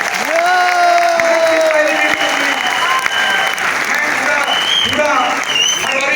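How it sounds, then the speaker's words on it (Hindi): Loud applause from an audience at a large Hindi-language business event in Gorakhpur, sustained and dense throughout with crowd noise and a voice over a PA rising above it. "एक बार जोरदार तालियां होनी चाहिए"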